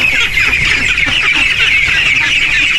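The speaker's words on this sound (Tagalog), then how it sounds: "Pag may lumalapit na hayop, tao, nag-iingay yan." A guard goose on a farm, on land newly cleared from grassland, honks loudly and continuously in a close, insistent series of calls with no talking.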